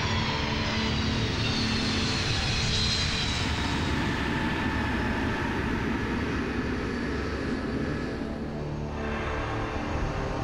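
A C-5 cargo plane weighing about 270,000 kilograms lands at Balad, a loud, steady roar of jet engines that holds throughout with no break and no voices.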